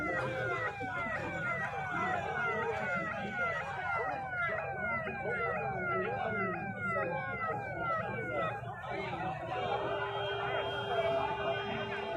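An ambulance siren wails in repeating sweeping tones, fairly close and continuous, then shifts to a steady tone, while people talk faintly underneath at the scene of a bus accident where a bus fell into a canal.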